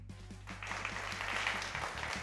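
Studio audience applauding on a Pakistani cricket talk show during PSL season, a steady wash of clapping that holds at an even level for the full two seconds.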